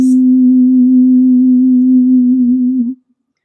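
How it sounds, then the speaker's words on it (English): A pure played tone at the note C, the fundamental pitch of a singing voice, sustains loud and perfectly steady for about three seconds, then cuts off cleanly into silence. "this is the fundamental pitch, and the fundamental pitch for my voice was the note C"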